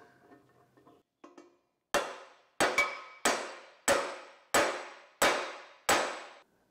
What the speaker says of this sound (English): So hopefully I can use this to push in that bearing race.